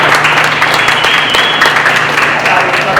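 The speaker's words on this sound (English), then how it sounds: "Can I get a round of applause for Kevin?" A group on a brewery tour applauds, loud and close, a dense continuous clatter of hands with a steady mechanical hum underneath.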